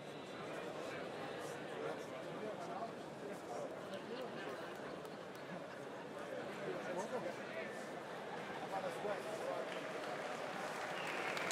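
A crowd at an MMA fight applauds both fighters, with steady clapping and crowd noise filling the arena while a commentator talks over it.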